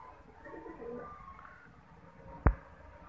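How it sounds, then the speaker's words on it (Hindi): Kasuri pigeons coo softly in the background, followed by a sharp sudden knock near the end. "ये देखिए माशाल्लाह से कबूतर प्योर कसूरी कबूतर।"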